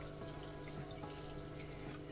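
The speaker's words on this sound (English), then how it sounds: "I just want to fill it up just up to the point where I can see that the water is covering the pump" Water pours steadily into a terrarium with a built-in waterfall, rising to cover the pump, a soft continuous trickling and splashing close by with no one talking.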